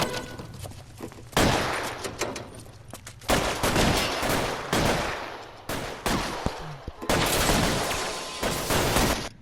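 Repeated heavy gunfire in the video game L.A. Noire, loud close blasts in several bursts separated by brief pauses, with a shotgun in use.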